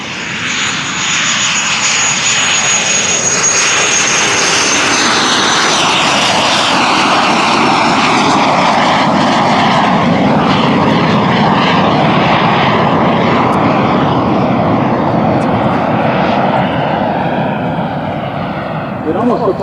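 A Cirrus Vision SF50 single-engine personal jet flies a pattern at the Oshkosh 2014 airshow, its loud steady roar with a high whine that slowly sweeps downward as it passes and recedes.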